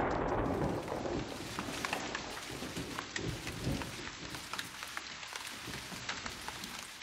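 A rain and thunderstorm sound effect in a 1995 Christmas audio drama: steady heavy rain patters densely throughout, with a low rumble of thunder fading at the start and lingering beneath, loud and continuous with no speech.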